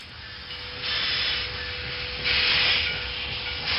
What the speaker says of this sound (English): a train that pulled up into Raleigh, North Carolina 160 years ago